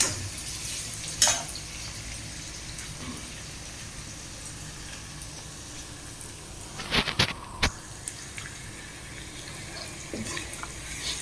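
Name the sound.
onions frying for Tamil fish curry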